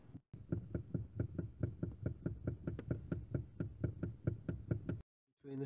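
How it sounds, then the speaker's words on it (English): A loose steering column intermediate shaft with worn universal joints knocks as the wheel is rocked from side to side, giving a quick, regular run of sharp clunks close by, then a brief silence. "when you're moving it side to side like this, you'll also be able to hear a knocking"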